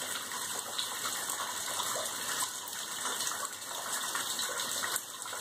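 Water gushes and splashes continuously from a leaking ceiling indoors, a steady broadband pour with no pauses, fairly close.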